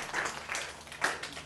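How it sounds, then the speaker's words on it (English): A class gives a round of applause after a student's presentation, with scattered, moderately faint clapping in an indoor room for about a second and a half, swelling briefly near the end. "give her a round of applause"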